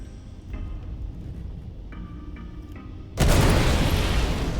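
A size 3 missile explodes against the shields of an Avenger Titan spacecraft in Star Citizen, a sudden loud burst of rushing blast noise that cuts in after a quieter stretch of low hum and tones.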